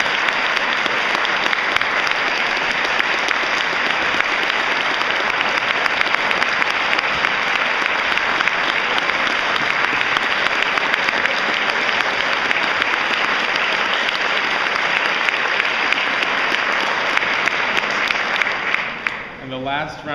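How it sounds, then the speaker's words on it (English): Audience applause at the close of a YAG 2013 event, a dense, loud, sustained wash of clapping from a crowd lasting the whole stretch and tapering off only at the very end. "Please give them a giant round of applause."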